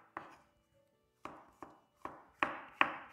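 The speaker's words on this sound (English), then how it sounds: "we're just going to slice them really, really thin" A knife slicing mushrooms thinly on a cutting board: six or seven crisp, separate chops, the first few spaced apart and the rest in a quicker, steadier rhythm, close and clear with no talk.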